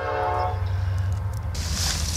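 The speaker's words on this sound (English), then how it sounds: "we'll let this train go by" A train rumbles past nearby with a loud, steady low roar and rattling cars, a brief horn blast at the start, then a brighter hiss of passing wagons.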